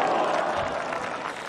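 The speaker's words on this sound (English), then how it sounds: "crowd clapping would suggest that that putt went in" A golf gallery at the 2022 TOTO Japan Classic applauds after Momoko Ueda's putt drops, a dense burst of clapping that stays fairly loud and even throughout.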